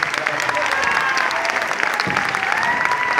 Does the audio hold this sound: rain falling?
no